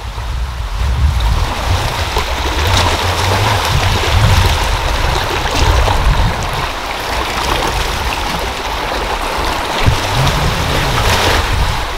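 Steady roar of ocean surf washing onto a Philippine island beach, continuous and loud, with wind buffeting the microphone.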